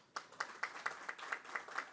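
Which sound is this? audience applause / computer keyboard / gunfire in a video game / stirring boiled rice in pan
audience applause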